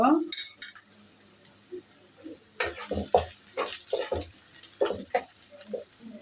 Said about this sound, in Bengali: পেঁয়াজটা আমি ভালো করে ভেজে নিচ্ছি